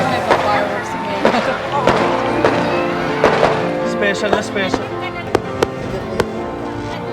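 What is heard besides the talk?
fireworks exploding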